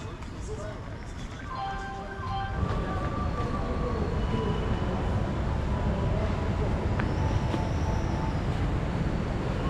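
Busy interior of a railway station in Nepal at night, with a steady crowd rumble and mechanical hum that thickens after a few seconds, and people talking throughout.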